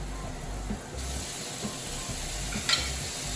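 Steak frying in a pan with soy sauce gives a steady, close sizzle and hiss that keeps going throughout, a few faint clinks rising over it and no talking.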